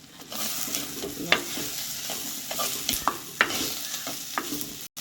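Breadfruit gravy sizzles in a pan while a spoon stirs it, scraping and tapping in a steady, close kitchen sound.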